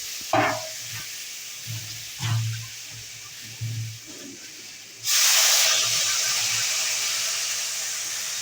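Water hits fried spices in a pan for a mixed vegetable curry of papaya, potato and green banana, bursting into a loud, sustained hiss of sizzling steam that slowly fades, after a few soft utensil taps and clinks.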